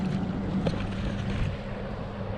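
Strong wind roars and buffets across a racing sailboat out on the water, a continuous low rumble with gusty swells, close and fairly loud.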